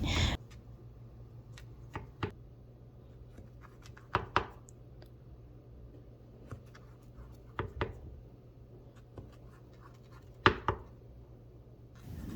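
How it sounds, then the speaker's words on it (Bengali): A knife cuts a rolled samosa dough sheet into strips, giving a handful of sparse, short taps and scrapes against a board, spaced a second or two apart over a faint low hum. "এবার আমি চমচার জন্য এভাবে প্রথমে লম্বালম্বি করে রুটিটাকে কেটে নিচ্ছি, এরপরে আড়াআড়ি করে কেটে নিব।"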